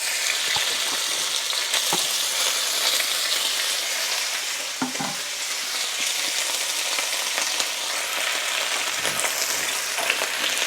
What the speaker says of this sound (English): You see how that wok is smoking? Then you gotta dump that meat in there.